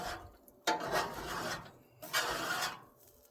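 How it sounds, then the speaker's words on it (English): A metal scraper drags across a Blackstone flat-top griddle in two firm strokes, each a rough, rasping scrape up close with a short pause between. "Scrape this off real quick"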